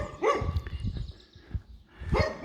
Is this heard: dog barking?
yes